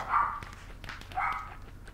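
A dog barks twice in the background, faint and somewhat distant, with a pause between the two barks.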